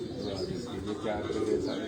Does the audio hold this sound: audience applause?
no